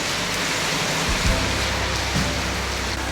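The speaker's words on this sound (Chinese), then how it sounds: "哇，下大雨了！" Heavy rain pours outside a roadside eel restaurant in Japan, a steady, dense hiss that stays even throughout, with no voices.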